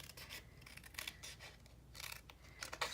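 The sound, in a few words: scissors trimming paper flap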